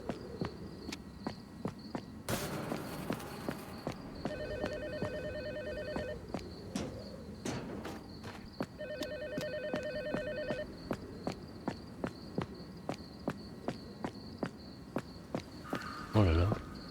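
An old telephone in the horror game Tormented Souls 2 rings in repeated electronic bursts, with a pause between them. The rings sit over crackling, insect-like ambience and scattered footsteps in a dilapidated setting.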